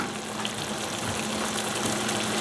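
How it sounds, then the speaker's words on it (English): Green peppers simmer in a pan for paneer butter masala, producing a steady, close, even hiss of bubbling with no breaks. "So I'm going to simmer this until those peppers begin to soften up and wilt."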